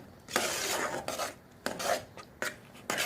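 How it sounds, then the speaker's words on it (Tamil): Custard pudding made from custard powder is stirred steadily in a pan, giving a series of scraping, rasping sweeps of spoon against the pan bottom. The strokes come in regular bursts about every half second to a second, with no talking. "கிண்டிக்கிட்டே இருக்கணும்."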